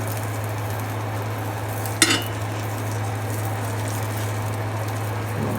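A cheese omelette sizzles steadily in a frying pan as it is folded over, a constant soft hiss with one brief clink of a utensil against the pan partway through.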